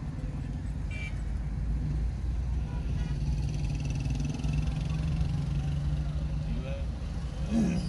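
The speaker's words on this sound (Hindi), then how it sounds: "ट्रैफिक कितनी जाम।" Car engines idle and rumble steadily in a traffic jam on a road near Peshawar, a continuous low drone that stays close and loud throughout, with voices talking over it.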